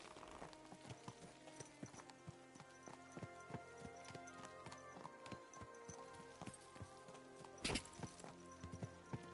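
Horse hooves clip-clopping at a steady walking rhythm in the video game Kingdom Come Deliverance 2, close and continuous over a faint ambient background.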